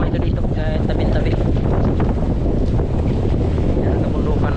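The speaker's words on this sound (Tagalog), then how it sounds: "malakas ang hangin" Strong wind at sea off Rapu-Rapu, Albay, roars constantly across the microphone from aboard a small boat, a loud, steady buffeting with water noise beneath and a voice speaking.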